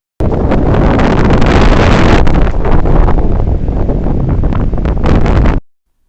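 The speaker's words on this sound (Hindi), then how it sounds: "यहाँ इतना भयंकर तूफान आया" Strong storm wind roars and buffets the microphone, loud and continuous for about five seconds before cutting off abruptly.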